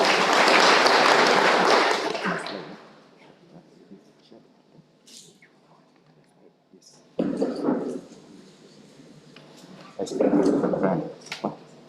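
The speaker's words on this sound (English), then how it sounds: "Clap for him again." Audience applause for a speaker at a school career fair, loud and dense for about two seconds before fading into low murmur, then two shorter bursts of clapping rise again later.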